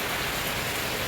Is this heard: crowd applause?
no